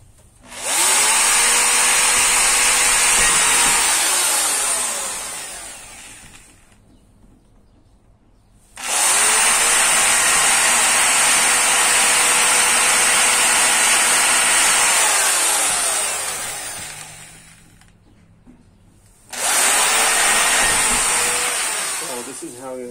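A power drill runs in three long bursts while installing FRP panels in a food trailer, whining steadily at high speed with brief pitch dips as it spins up and winds down, separated by short pauses.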